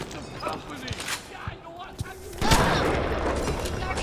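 A shotgun fires in the video game BioShock, a few sharp blasts followed by a louder burst and sustained noisy clatter, with a player's voice talking over the action.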